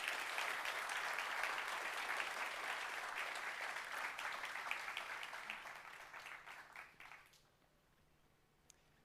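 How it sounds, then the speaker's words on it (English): An audience at a Flutter & Friends conference main stage claps together in sustained, dense applause that holds steady, then thins and fades out toward the end, leaving near silence with a last stray clap. "And with that, let's give a big round of applause for Felix."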